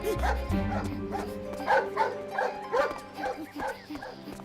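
A cartoon dog barks repeatedly in a quick, bouncy rhythm of woofs and yips, loud and close, while a cartoon basketball scene plays.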